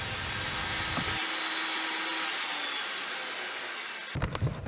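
Table saw cutting a board to length in a workshop, a continuous loud whining roar of the blade running steadily and close up, ending in some clatter.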